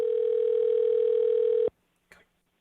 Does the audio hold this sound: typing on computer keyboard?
no